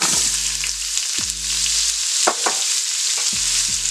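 Onions frying in sesame seed oil for chicken and shrimp ramen soup, a steady loud sizzle with a few stirring scrapes, heard alone.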